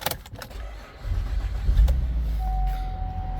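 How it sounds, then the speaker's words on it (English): A Chevrolet Traverse engine starts after a few faint clicks, cranking into a low, steady idle rumble close by, with a thin electrical whine appearing near the end and no talking. "Okay, now start the vehicle."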